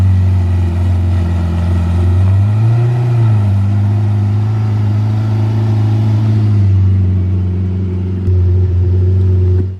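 A Ferrari 488 drives along at a steady pace, its deep engine hum holding firm with one smooth swell in revs midway, then easing off and cutting out at the end, no voices.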